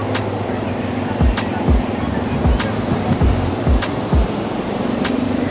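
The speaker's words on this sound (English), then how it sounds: "The waves come from there." Ocean waves wash onto the beach at Vodarevu with a constant broad roar, steady and close, while heavy low rumbling thumps, likely from nearby quad vehicles, pulse intermittently underneath.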